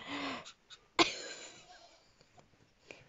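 Pet capuchin monkey huffing and puffing, a few close, breathy wheezing and coughing bursts, the strongest around the middle and fainter puffs after, in a quiet room.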